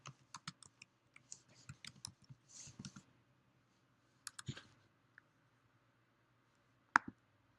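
Bursts of computer keyboard typing while entering vendor details into a purchase order, light irregular key clicks in short clusters separated by pauses, with a few sharper isolated clicks, no talking.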